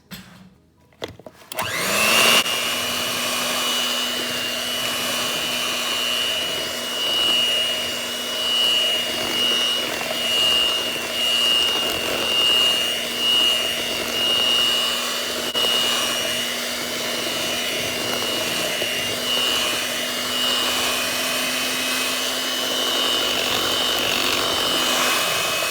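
Flour and baking powder being mixed into southern vanilla muffin batter with a steady machine whir that starts after a brief clatter and runs evenly and loudly for over twenty seconds, with no talk.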